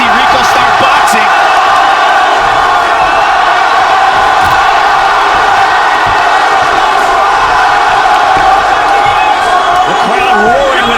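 A large arena crowd roars at a heavyweight kickboxing title fight between Rico Verhoeven and Jamal Ben Saddik, a loud, sustained mass of shouting and cheering with swells, close and continuous for the whole stretch.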